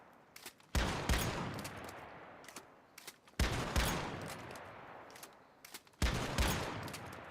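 Gunfire in the shooter Once Human comes in three separate bursts of rapid shots, each loud and sharp, trailing off before the next volley, with no talking.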